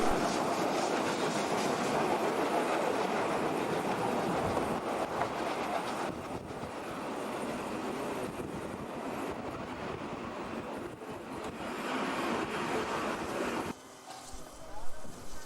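A steam special train runs along the Bergen Railway in Norway's high mountains, a continuous loud rumble and clatter with wind buffeting, fading near the end.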